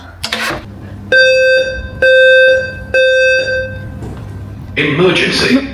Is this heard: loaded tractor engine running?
no